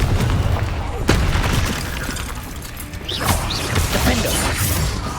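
Confringo fire spell blasts and explosions in Hogwarts Legacy, a dense loud rumble with several sharp bursts, under a speaking voice.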